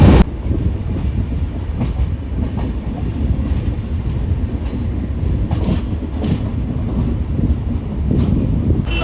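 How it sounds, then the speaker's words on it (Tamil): A train rumbles steadily along the rails in Thiruvananthapuram, Kerala, a constant loud low roar with faint rhythmic clacking heard from inside a carriage. "திருவனந்தபுரம் ட்ரெயின் ஏறிட்டோம்."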